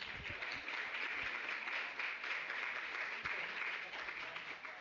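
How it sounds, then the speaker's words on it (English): An audience claps together in dense, continuous applause that stays fairly even in level for the whole stretch, heard from a moderate distance. "So give yourselves a round of applause."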